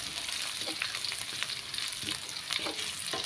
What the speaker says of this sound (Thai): ผัดให้หอมแล้วเราจะใส่ลูกชิ้นลงไปเลย